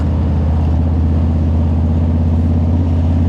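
A 2018 Harley-Davidson Low Rider's engine pulls up a cobblestone hill with a loud, close, steady low rumble that holds an even throb the whole time.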